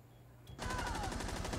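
Rapid burst of gunfire in a tactical shooter game erupts after a brief quiet moment, dense repeated shots sounding close and loud until the end.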